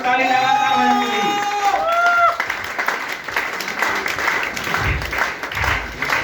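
A crowd claps steadily and vigorously at a Safe Shop company gathering in Ahmedabad, the dense clapping rising after a brief musical opening and continuing loud throughout beneath faint talk.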